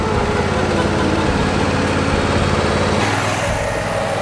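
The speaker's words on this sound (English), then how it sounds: "Ready to mow the lawn?" Lawn mower engine drones steadily and loudly throughout, a close continuous roar with no breaks and a slight change in tone near the end.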